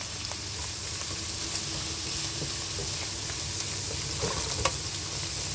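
Onion sautéing in a pan for spaghetti sauce gives a steady, close sizzle with the occasional soft clink of stirring, with no talking.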